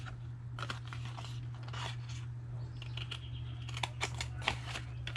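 Scissors cut corner pieces from scored card for a Christmas card box, making quiet, irregular snips and paper rustles close by over a low steady hum.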